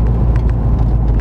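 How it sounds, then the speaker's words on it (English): The engine of the pro-touring wagon "Coppertop" rumbles steadily and close by through a gear downshift, a dense low drone with no one talking. "That was a downshift."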